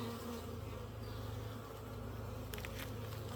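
Dense, steady buzzing of many honeybees close by at an open hive, a continuous droning hum with no voices.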